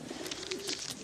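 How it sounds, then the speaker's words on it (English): English carrier pigeon cooing softly in a wartime setting, a low murmuring coo over about a second against a noisy, hissy background. "This is a good little English carrier pigeon."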